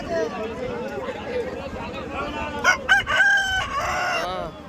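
A rooster crows loudly nearby in Dayapur village in the Sundarbans at dusk, over a background of people talking, the drawn-out call rising and breaking near the end.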